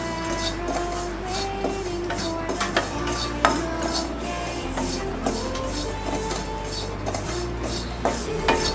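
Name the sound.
roasting grated coconut for coriander panjiri, stirred in pan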